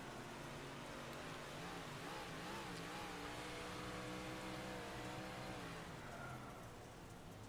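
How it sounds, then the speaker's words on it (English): A race car in a racing video game drones through its engine, a continuous dense motor roar with shifting pitch as it rides and bounces, steady and fairly near from start to finish. "you can just see and hear the car is just bouncing"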